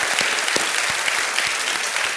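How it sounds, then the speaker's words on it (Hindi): A studio audience on the quiz show Kaun Banega Crorepati applauds a contestant, a loud, thick wash of clapping that runs continuously throughout the short stretch. "आपके लिए हम अभिनंदन और तालियां बजाते हैं"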